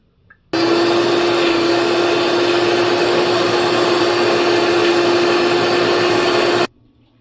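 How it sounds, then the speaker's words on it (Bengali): An electric blender grinds coriander leaves, mint leaves and green chillies in a home kitchen, a loud steady whir that starts abruptly, runs unbroken for about six seconds, then cuts off. "ধনিয়া পাতা, পুদিনা পাতা আর কাঁচামরিচ এখানে আমি ব্লেন্ড করে নিছি"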